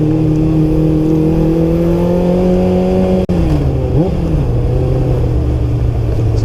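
Kawasaki Ninja GPX600 motorcycle engine running steadily at a loud, close drone, briefly dipping in pitch midway as it shifts or eases off before settling back into a constant hum.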